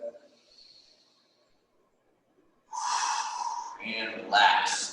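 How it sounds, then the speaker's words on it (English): A person takes a big deep breath during a neck stretching exercise, a long close inhale followed by a breathy exhale, with brief talk before it. "One more big deep breath."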